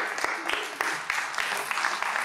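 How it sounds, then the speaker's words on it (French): An audience claps steadily for children and youths coming up on stage at a civic engagement launch event in Léguevin, with a dense wash of hands and a few sharper individual claps standing out. "on peut les applaudir pour les encourager"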